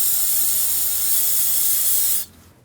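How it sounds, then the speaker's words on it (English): Brake parts cleaner hisses in a steady, loud spray onto a brake hose fitting of a 2001-2009 Volvo S60, running unbroken for about two seconds before cutting off abruptly. "Now we'll just clean this off, the little brake parts cleaner."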